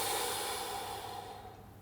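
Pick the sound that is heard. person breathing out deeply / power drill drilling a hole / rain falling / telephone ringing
person breathing out deeply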